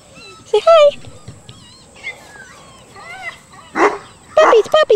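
Young puppies, a fawn and a darker red one, yip and bark in short close bursts while a person speaks to them in between.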